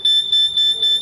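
A conventional fire alarm panel sounder under test gives a piercing, steady high electronic tone that pulses in rapid regular beats, loud and close with no talk.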